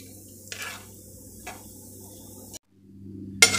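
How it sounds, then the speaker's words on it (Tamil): Chana dal roasting in a pan for rava kichadi, with steady soft sizzling under a few scraping stirs of a spoon against the metal, then a brief gap and a sharper clatter at the end. "கடலை பருப்பு நல்ல ப்ரௌன் கலரில் வறுக்கணும்"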